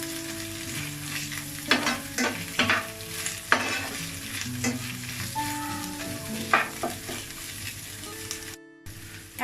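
Onion and egg frying in a pan with cumin and black pepper, a steady low sizzle broken by repeated scraping stirs of a spatula at irregular intervals, close and without talk.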